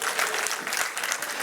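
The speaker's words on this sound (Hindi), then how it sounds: "अभी ताली उतनी जोर के नहीं आई, दम से बजाइए एक बार।" A crowd of traders at a political rally claps harder on request, a vigorous, sustained burst of applause with crisp hand strikes over a continuous roar.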